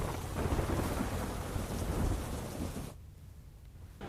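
Heavy monsoon rain pours down in Dwarka, Gujarat, with rolling thunder: a dense, loud, steady roar of rainfall and low rumbling that drops away abruptly near the end, leaving only a faint hiss before it briefly returns.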